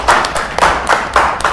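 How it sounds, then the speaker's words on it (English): Handclaps at a live talk show ring out close and firm in a slow, steady beat, roughly two per second, with no crowd noise behind them. "let's give her a round of applause"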